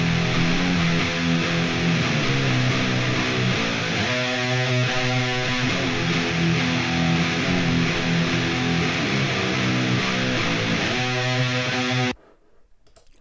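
Stacked metal guitar tones from a Line 6 Helix, a Kemper and a main amp, blended into one thick, loud distorted wall of riffing that plays continuously, then stops dead near the end.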